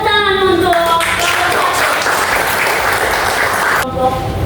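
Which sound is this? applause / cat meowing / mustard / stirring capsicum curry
applause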